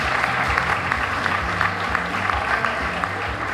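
An audience at a teacher-of-the-year celebration applauds a teacher with steady, moderately loud clapping. A low music bed runs underneath.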